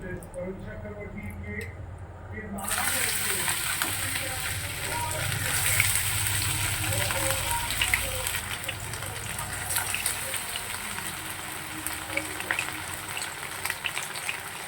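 Aloo pakora batter fritters dropped into hot oil on a low gas flame, a steady broad bubbling sizzle that swells after a quiet start and holds throughout.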